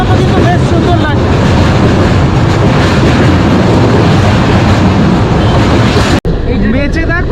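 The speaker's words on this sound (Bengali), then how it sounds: "ওই দিক থেকে আরেকটা ট্রেন যাচ্ছে, পাস হচ্ছে আরো একটা ট্রেন" Another train passing by alongside the Howrah–Digha Paharia Express, a loud, sustained roar of rushing rail noise and wind that cuts off abruptly near the end, with faint voices audible.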